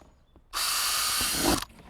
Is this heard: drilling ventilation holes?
yes